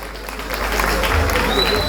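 A live-show audience applauds loudly in a steady, dense wash of clapping and crowd noise that carries through the whole moment without a break.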